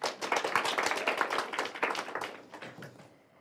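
An audience at a youth pitch competition final applauds volunteers in a steady, dense wash of many hands that thins out and fades toward the end, heard at moderate distance.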